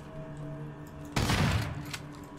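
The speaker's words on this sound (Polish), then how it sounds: "wyładowałem w kolesia 50 strzałów" A single loud burst of gunfire from a weapon in the video game Daymare 1998, a sharp close blast with a rumbling tail cutting through a quiet humming background, alone without talk.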